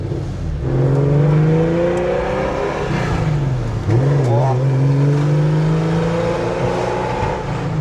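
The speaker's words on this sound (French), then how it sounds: "Ça, c'est le beau bruit Porsche. Tu vois, ils ont bien retravaillé l'échappement." A Porsche engine with a reworked exhaust drones loudly and steadily, its pitch rising and falling through several smooth revs, with a brief dip near the middle before climbing again; it sounds close and continuous.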